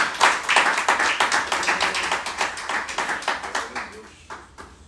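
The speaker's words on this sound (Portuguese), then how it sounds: "aplauda ao Senhor com o seu melhor" A church congregation claps in a quick, rhythmic beat during a worship service, with loud sharp hand claps that slowly fade near the end and voices mixed in.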